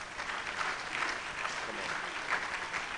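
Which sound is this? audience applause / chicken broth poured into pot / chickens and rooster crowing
audience applause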